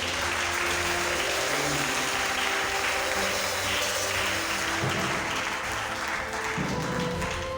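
A church congregation claps and applauds steadily, a dense, loud wash of many hands filling the room without pause throughout.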